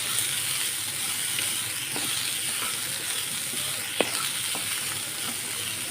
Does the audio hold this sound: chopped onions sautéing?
yes